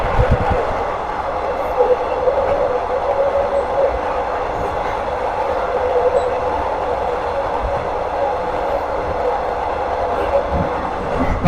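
A passenger train (an ordinary Thai service) rumbles steadily past on an elevated track for several seconds, a continuous rolling drone with faint rail clatter and occasional knocks, with rain falling.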